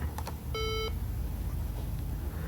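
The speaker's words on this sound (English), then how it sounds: "So that beep means it's starting up." A BrailleNote Empower braille notetaker gives a short startup beep, a steady electronic tone lasting about a third of a second, clear and close over a constant background hiss.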